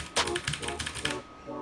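Rapid clattering keystrokes on a secondhand mechanical keyboard with blue switches, sharp clicky taps in a quick burst, close and fairly loud, with faint voice in the background.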